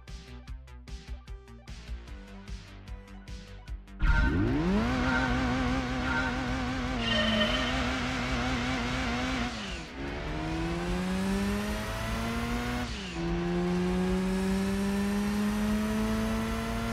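A Mazda RX-7 racing engine in Gran Turismo 2 roars off the line on a 400-meter run, revving hard and climbing in pitch through several gear changes, each shift dipping then rising again, loud and steady throughout.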